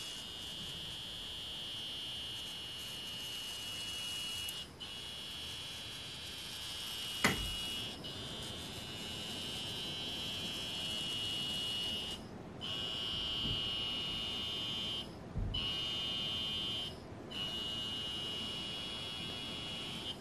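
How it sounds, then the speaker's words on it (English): A LuxaLift 5-in-1 LED light therapy device's massage unit gives a steady high-pitched electronic buzz that drones on, cutting out briefly a few times before resuming, with a couple of faint clicks. "So that you can hear the sound of the massage unit."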